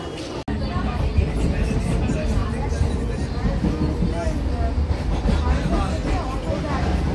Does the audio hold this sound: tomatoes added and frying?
no